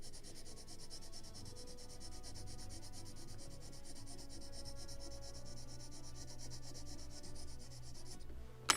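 Old, worn sandpaper rubs over a small model part for a 1776 gunboat Philadelphia model, a soft continuous scratchy rasp heard up close and fairly quiet, ending with a brief knock.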